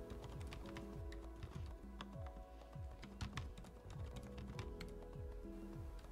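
Typing on a low-profile keyboard fitted with Ambience silent switches, a quiet, continuous patter of soft muted keystrokes with occasional slightly sharper taps, close and alone.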